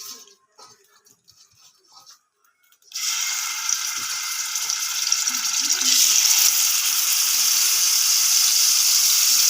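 Fish rubbed with turmeric frying in hot oil in a pan, a steady loud sizzle that starts suddenly after a few quiet seconds and holds on without a break.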